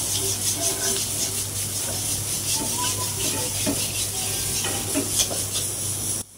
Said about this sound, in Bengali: মাছ ভাজার পর কড়ার ভিতর যে তেল থেকে গেছে, এই তেলের ভিতর পেঁয়াজ কুচি দিয়ে দিলাম